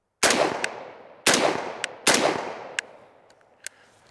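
Three sharp, loud rifle shots from a PWS MK114 Mod 1 rifle on gas setting one ring out about a second apart, each followed by a long fading echo and faint ringing clinks of ejected brass.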